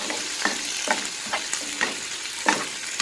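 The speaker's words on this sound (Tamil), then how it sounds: "இப்போது இந்த புதினாவெல்லாம் வதக்கி எடுத்துக்கலாம்." Mint leaves sautéing in a pan for mint chutney, a steady frying sizzle broken by regular scraping stirs of a spatula about every half second, close and clear.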